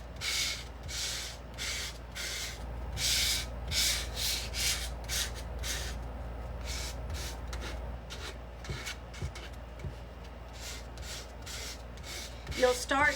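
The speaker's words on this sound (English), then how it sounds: "take this really light sandpaper and just kind of barely go over" Light sandpaper rubbed by hand over painted barnwood in repeated short strokes, a steady scratchy rhythm of close, fairly quiet passes with brief pauses between them.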